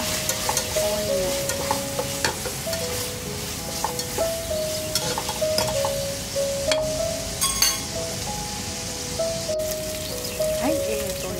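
Onion sautés in a pan for a sardine and miswa dish, a loud steady sizzle with a spatula scraping and stirring at intervals, close up with no voices.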